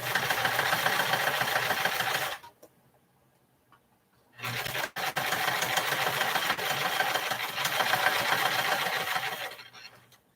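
Sewing machine stitching fabric strips onto a quilted heart for a pillow or pincushion, a steady close whirring run that stops for about two seconds, then resumes and continues to the end.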